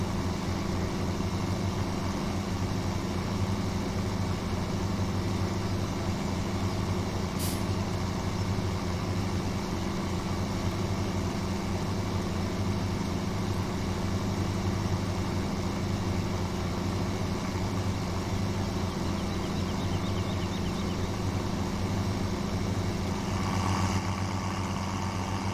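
Tractor engine in Farming Simulator 17, a steady droning rumble with strong low harmonics running continuously at close range, with no talk over it.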